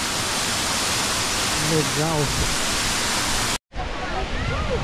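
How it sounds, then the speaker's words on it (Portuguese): The main drop of a waterfall in Serra do Cipó roars loudly and steadily at close range, a dense rushing wash that cuts out briefly near the end. A person speaks over it, and whistle-like voice sounds rise above the noise. "Essa é a principal queda dessa cachoeira aqui."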